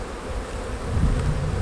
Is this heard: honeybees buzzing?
yes